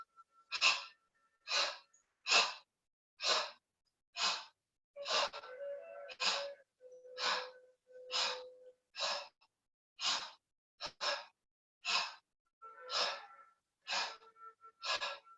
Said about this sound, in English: you can use a short, choppy exhalation through the nose.